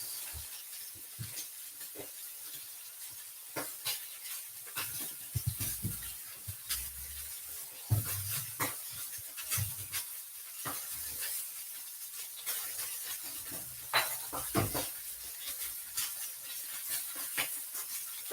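Steak and mushroom sauce made with cream and Worcestershire sauce simmers in a pan on the stove, giving a steady soft hiss and faint bubbling with scattered small clicks and stirring clatter throughout.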